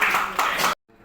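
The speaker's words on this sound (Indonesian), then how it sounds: "Kita mohon izin kasih aplaus untuk Bayu." Audience applause for Bayu at a university gathering: a dense burst of clapping from a crowd that stops abruptly after under a second, followed by a faint quiet room.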